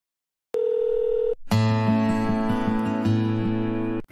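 A telephone signals an outgoing call. A short steady electronic tone is followed by a buzzing, pulsing ring pattern that repeats for a few seconds. No one talks.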